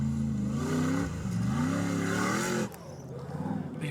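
A supercharged Chevy 4x4 truck built by Wairarapa Diesel Services revs hard at an off-road challenge, its engine loud and rising and falling for nearly three seconds before easing off under background noise.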